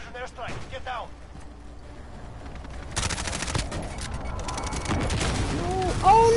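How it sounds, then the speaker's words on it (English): Heavy gunfire and a barrage of blasts from an enemy precision airstrike in Call of Duty: Modern Warfare. The impacts pound loud and continuous, with voices talking over the chaos. "Enemy precision airstrike. Get down."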